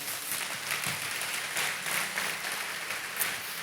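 A church congregation claps together in sustained, dense applause during an online service, steady and moderately loud throughout without a break.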